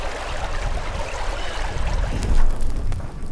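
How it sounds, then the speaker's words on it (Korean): Bark of the paper mulberry being rinsed in a clear mountain stream for traditional hanji paper-making: a steady rush of flowing water with some sloshing and splashing, close and fairly loud, no voices. "벗겨낸 닭나무 껍질은 맑은 개울물에 넣고 씻어 불순물을 제거하는 과정을 거친다."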